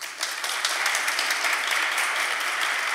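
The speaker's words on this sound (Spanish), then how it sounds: "que aplauda fuerte ahora" An audience applauds loudly to vote for a song at a Pint of Science talk in Toledo, with steady dense clapping that continues for the whole stretch.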